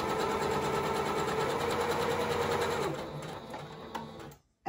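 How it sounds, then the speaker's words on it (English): A sewing machine runs steadily, stitching ribbon onto a fabric surgical mask with a fast, even whirring rhythm that slows near the end and then stops. "So let's quickly sew that ribbon on."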